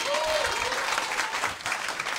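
Comedy club crowd at a Romanian crowdwork stand-up show applauding an audience member, a short wash of clapping heard at moderate distance, with a brief voice-like tone near the start.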